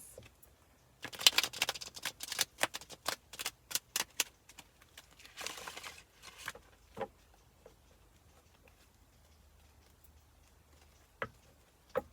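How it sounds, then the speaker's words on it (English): Tarot cards being shuffled by hand: rapid papery riffles and taps clustered in bursts early on, then sparse single flicks, close and quiet, with no talk. "Just a couple more shuffles."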